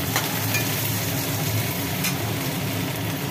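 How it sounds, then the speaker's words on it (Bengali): Potatoes and onions fry lightly with black cumin in a pan, a steady, close, dense sizzle that runs unbroken throughout with no voices. "কালো জিরে সহযোগে আলু পেঁয়াজটা একটু হালকা করে ভাজি করে নেওয়া হলো।"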